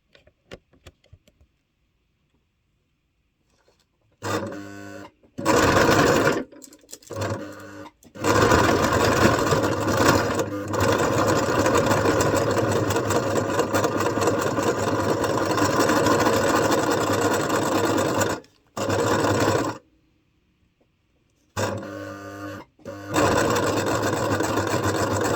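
Sewing machine stitching fabric during a craft session, running in several bursts of steady mechanical whirring with short pauses between runs, loud and close, with no talk.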